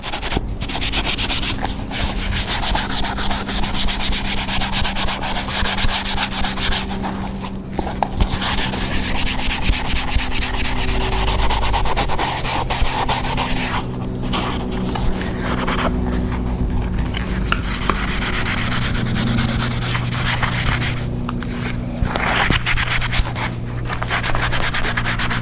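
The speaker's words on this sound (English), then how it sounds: "I have to get in there and then scuff it" Steady, close abrasive rubbing as an interior surface of a 1993 GMC Sierra pickup is sanded and scuffed, sustained strokes with brief pauses throughout.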